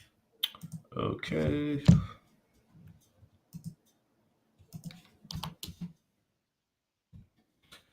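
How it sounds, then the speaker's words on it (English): Computer mouse clicks come in scattered bursts during a live reaction stream of a wrestling show, with a person speaking briefly between them. "you're not just going to hear me be clicking for the entire time"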